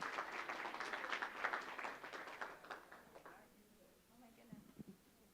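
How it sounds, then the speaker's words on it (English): Faint applause from a small forum audience for a speaker, scattered claps for a few seconds that fade out, followed by quiet room sounds and a few light taps. "can you give a round of applause to Jennifer Sellers?"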